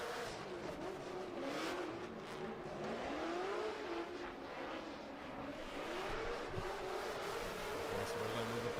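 Drift car engine at a drift championship qualification in Oman, a continuous rising and falling engine drone with revving sweeps and hints of tire noise, heard at a distance across the whole stretch without clear talk.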